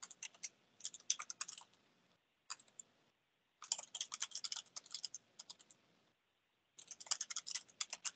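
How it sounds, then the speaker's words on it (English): Typing on a computer keyboard during a recorded online meeting comes through as rapid, faint clicking bursts separated by brief pauses, with no talk. "there's someone who is typing."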